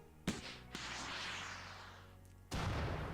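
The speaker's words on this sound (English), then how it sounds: "So I think we should set off a few missiles just to see what they can do." Missiles launching and blasting in the Rimworld video game: a sharp crack, a second shot, then a long rushing roar that fades before another loud burst hits near the end, with no talking.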